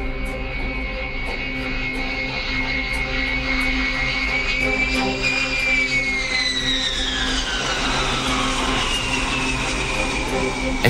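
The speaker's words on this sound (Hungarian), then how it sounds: "Este 17:30 előtt nem sokkal landol a varsói repülőtéren a malév 121-es járata." A Malév airliner landing at Warsaw airport, heard as a steady, loud jet engine roar with a whining tone that rises and then sweeps downward as the aircraft passes close by.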